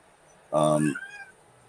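A house cat lets out a short meow close to the microphone, a single loud call followed by a fainter trailing note, standing alone in a brief pause.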